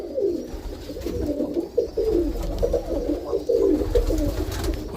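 Soft, low cooing from a red grizzle roller pigeon, a steady rolling coo near the microphone over a faint background rumble, with no talking.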